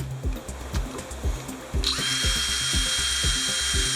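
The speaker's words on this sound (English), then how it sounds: "So here's a Cobalt Milwaukee 3/32 drill bit." A drill drives a Milwaukee cobalt 3/32 bit into an electrical box. Rapid rhythmic clicking comes first, then the motor spins up into a steady high whine with the ticking still running underneath.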